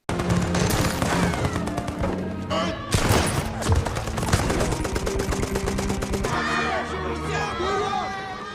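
Dense gunfire as Soviet soldiers at windows fire on German troops in a war film scene, rapid overlapping shots mixed with shouting voices and crowd commotion, continuous and loud throughout.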